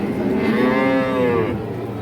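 A Holstein Friesian dairy cow gives one long, loud, resonant moo up close, fading out after about a second and a half, with no talk.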